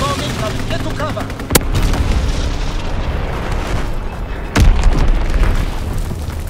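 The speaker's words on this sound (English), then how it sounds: "Enemy bomb incoming. Get to cover." Heavy bomb blasts in a Call of Duty: WWII team deathmatch on the Gibraltar map: two sharp, loud booms over a constant roar of battle noise.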